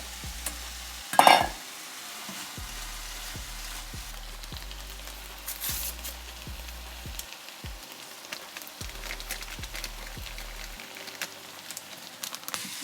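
Chicken with onions and peppers sizzling and frying in a pan, stirred with scraping utensil strokes, a steady close crackle with one sharp clatter near the start and recurring low hum underneath.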